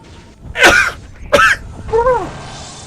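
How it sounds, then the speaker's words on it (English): Two explosive human sneezes close to the microphone in quick succession, followed by a breathy vocal groan, loud and clear with no other talk. "Too many sneezes all at once."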